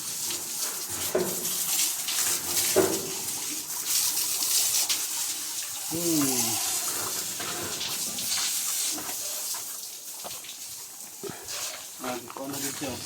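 Water splashes and pours steadily while a pig is bathed outdoors, a continuous wet hiss with brief squeals, and people talk throughout.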